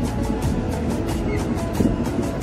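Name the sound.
train moving slowly near Haldwani station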